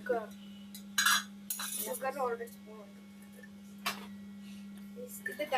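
A metal spoon scoops sugar into a bowl and clinks against it in a few sharp taps, close up over a steady low hum, with a person speaking between the taps.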